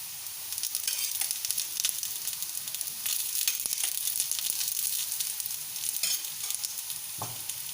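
Masala akki rotti, a spiced rice-flour flatbread, sizzles steadily in oil on a pan, a constant crackling hiss with a few louder pops and scrapes near the end.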